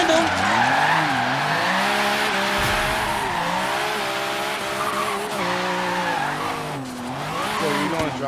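Several cars drifting in tandem in Forza Horizon 3, with a BMW M3 E36 among them at a stance and widebody car meet, tires squealing continuously over wavering engine tones, loud and sustained throughout.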